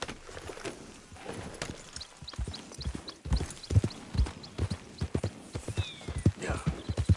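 Horse hooves clip-clop in The Division video game, a steady, close walking rhythm of hoofbeats with a possible brief whinny and faint chirps in the background.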